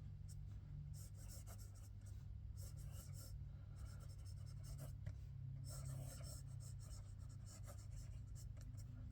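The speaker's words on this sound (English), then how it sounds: "Let's see if I can write and talk at the same time for the sake of this." Leonardo Momento Zero fountain pen with a titanium nib scratching across paper, a faint continuous rustle of short strokes under a steady low hum, with quiet talk alongside.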